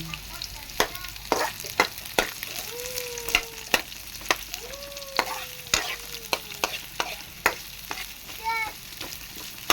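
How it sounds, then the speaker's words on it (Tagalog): Adobo string beans with eggplant sizzling in a pan, a soft frying hiss with frequent sharp clicks and scrapes of stirring, plus a few chirpy squeaks in the background; no one speaks. "magluto tayo ng adobong sitaw with talong"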